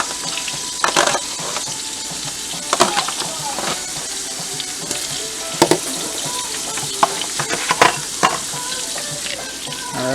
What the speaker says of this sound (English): Alright, we're gonna let this fry a little bit.